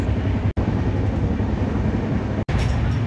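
A night passenger train rumbles along in a loud, continuous roar, broken twice by brief sudden cuts, with no voices.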